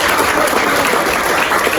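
An audience in a hall claps loudly and steadily for two schools after a match, a dense, continuous burst of applause.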